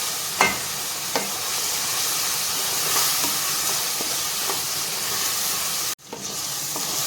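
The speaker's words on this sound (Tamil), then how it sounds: "தக்காளியை நல்லா சிம்மில் வச்சு வேக விடுங்க" Tomatoes simmering on a low flame in a pan for a dry fish gravy give a steady, close sizzle and hiss, with a few soft stirring taps, and a brief break near the end before the sizzling resumes.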